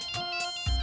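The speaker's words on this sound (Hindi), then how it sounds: "महेश डोंगरे का फोन आ रहा है।" A mobile phone plays a short electronic ringtone for an incoming call, a brief bright melodic tone heard close and clear with no talk.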